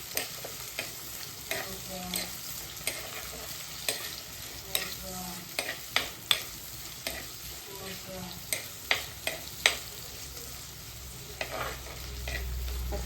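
Tomatoes fry in hot oil as a spoon stirs them, giving a steady close sizzle broken by repeated scraping strokes through the pan; a short word of speech comes in once.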